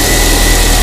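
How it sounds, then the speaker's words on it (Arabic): A car engine idles steadily at close range, a continuous low rumble with a faint mechanical hum and no change in pace, alone with no voices. "هذا صوت الموتور"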